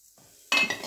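Lamb meat hits hot vegetable oil in a pan, and a sudden loud sizzle and crackle starts halfway through after a quiet moment, staying close and bright as it fades slightly.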